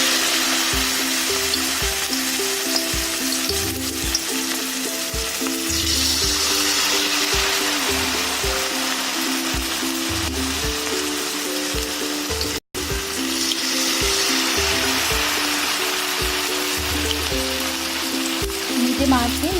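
Mixed vegetable pakoras deep-frying in hot oil over medium heat, a loud, dense, steady sizzle filling the whole stretch, with faint talk and a low rhythmic thumping underneath.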